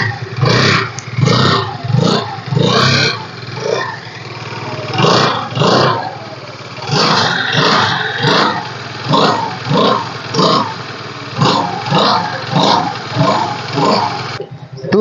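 Honda Dio scooter, an early model in good condition, starting on its self-starter and revving in repeated bursts, loud and close, with no talk over it.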